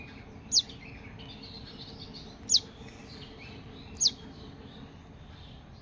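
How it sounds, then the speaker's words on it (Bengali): A young bird named Tuni calls for its mother, three short high sharp chirps spaced about one and a half seconds apart over a quiet low background hum. "দেখো অনেক ডাকাডাকি করছে গো মায়ের জন্য।"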